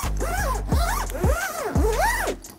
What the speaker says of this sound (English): we spent a lot of time meticulously designing our industrial grade zippers